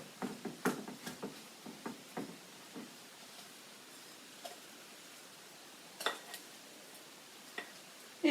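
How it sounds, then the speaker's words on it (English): Butter being stirred into dry ingredients for a crumbly apple crunch topping, with quiet scraping and a series of light spoon taps against a bowl, irregular and close, no talking. "I'm gonna make sure that's stirred together very well."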